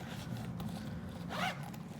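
A zipper on a breast pump bag's pocket runs in one quick, close pull lasting about a third of a second, with a steady low hum underneath.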